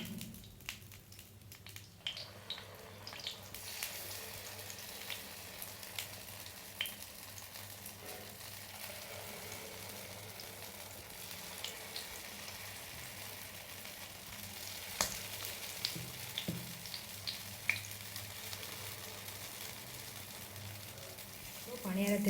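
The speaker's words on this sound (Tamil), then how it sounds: "இப்போ பணியாரத்துக்காக கலக்கி வச்சுருக்க மாவு ஊற்றுங்க." Kuzhi paniyaram batter frying in oil in a paniyaram pan makes a continuous soft sizzle with occasional clicks and taps of utensils, while a person talks intermittently.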